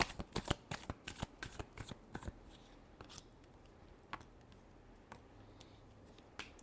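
A deck of tarot cards gets a final shuffle, with a quick flurry of sharp, close riffling snaps at first, then a few scattered soft flicks over a quiet background.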